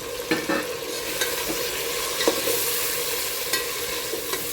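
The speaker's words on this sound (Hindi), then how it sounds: "और बोटियों को भी हम भूनेंगे थोड़ी देर इन सब चीज़ों के साथ ऑयल में" Steady crackling sizzle of mutton pieces frying in oil for pulao, with occasional scraping clinks of a spoon stirring the pan, close up.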